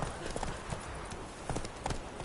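Horse hooves clip-clop at a steady gallop-like rhythm in The Witcher 3 on PS4, close and fairly loud, with faint voice traces in the background.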